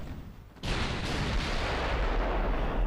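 Warship main guns firing in a naval battle in the Ultimate Admiral Dreadnoughts game, with Spanish battleships engaging French ships; a sudden heavy boom breaks a quiet stretch and gives way to a loud, sustained roaring rumble of continued fire.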